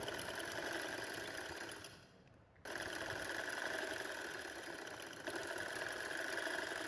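A sewing machine runs steadily while stitching leftover fabric onto a baby girl's frock, a close, even mechanical whir that dips briefly before picking back up at full speed. No one speaks.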